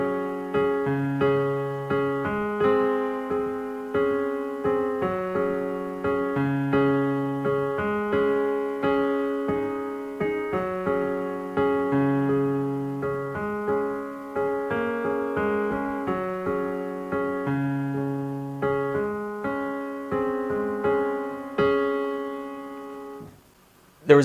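Solo piano plays the full verse of a song, a steady repeating right-hand pattern over low bass notes, each chord decaying before the next, clear and close with no voices.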